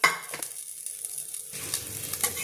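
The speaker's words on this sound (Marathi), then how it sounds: "वाटाणे एक वाटी घेतलेले आहे ते भाजून घेतलेले थोडेसे भाजून घ्यायचं आहे" Green peas roast in a pan, heard as close scraping and stirring strokes over a light dry sizzle, with a brief quieter gap in the middle and no speech.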